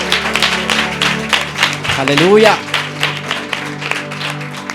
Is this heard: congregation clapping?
yes